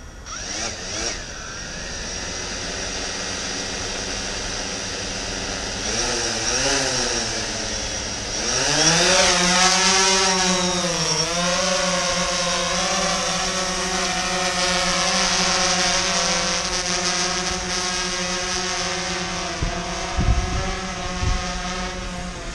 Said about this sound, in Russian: Наступил тот день, когда наконец-то я запущу свой коптер, посмотрим, как он летает.